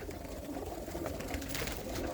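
A loft of domestic pigeons coos softly and continuously in the background, a low rolling murmur with no clear single call standing out.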